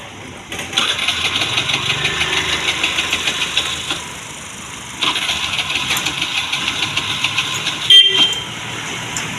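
Vehicle engine at a driving class in Madurai starts up and idles steadily near the mic, with a brief drop around four seconds, renewed running, and a short horn-like toot near the end.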